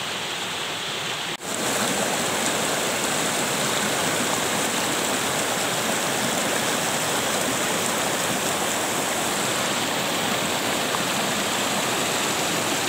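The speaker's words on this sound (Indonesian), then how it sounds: "di pinggiran sungai ini dekat Cikundul ya" The Cimandiri river near Cikundul rushes steadily, close and loud, a dense unbroken roar of flowing water with a small waterfall nearby, continuing alone without voices.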